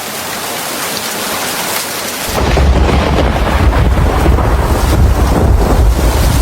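Heavy rain in a thunderstorm makes a dense, loud, steady roar that swells stronger after a couple of seconds, with wind-like rumble underneath and no clear thunderclap or voices.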